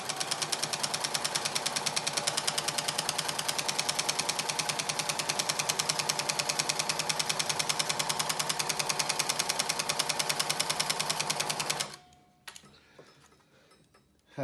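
A sewing machine, cranked fast, stitches face mask fabric in a rapid, even run of mechanical clatter for about twelve seconds, then stops, leaving faint handling noises.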